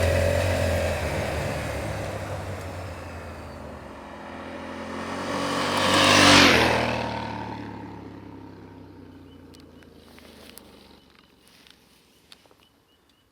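A 2022 Honda Africa Twin engine runs steadily, then rises to a loud surge of revs mid-clip before easing back down, with wind noise and a few faint clicks near the end.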